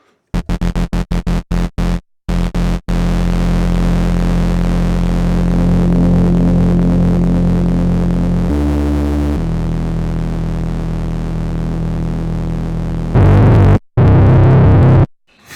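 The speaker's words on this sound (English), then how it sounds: "you're able to use it as sort of a distortion or saturation method, because you can kind of internally distort the signal." Minimoog Model D synthesizer with its output fed back into the input for internal distortion and saturation: a loud, buzzy, sustained tone after a few sharp clicks, shifting in pitch midway and cutting off abruptly near the end.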